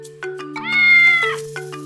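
A Bengal cat gives one long, drawn-out meow that swells and fades, sung over a steady low hum with a few shorter mews around it, close and clear.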